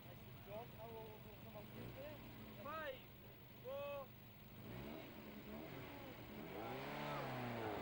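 An MG Midget sports car, the MG version of the Sprite, revs its engine in rising and falling bursts, fairly close, over a steady background rumble of other traffic.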